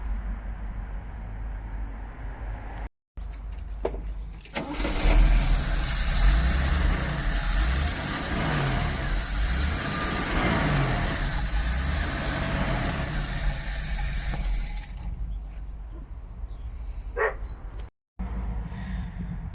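A Luton van's engine idles steadily right after carburettor work, a loud continuous running drone holding for most of the stretch, with a dog barking in the background at times.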